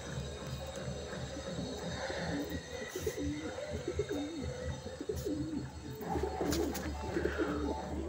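Pigeons cooing in a loft of birds kept for sale, low repeated coos overlapping steadily against a background murmur, with a few brief louder knocks.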